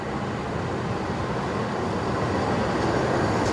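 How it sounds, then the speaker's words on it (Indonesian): A locomotive shunting at a station in Indonesia rumbles steadily, a low mechanical drone with a broad roar that slowly builds, heard close with no other sounds. "Gerakan langsir lokomotif dinas kereta Purwojaya."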